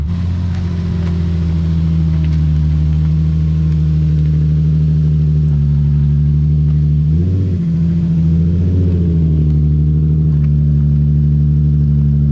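A Nissan 350Z HR engine runs at a steady idle, a continuous low rumble close by with a couple of brief wavers near the end, no talk.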